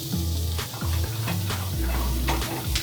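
Mushrooms and sliced white onions sautéing in butter alongside beef, a loud steady sizzle with stirring and scraping in the pan, over a continuous low background hum.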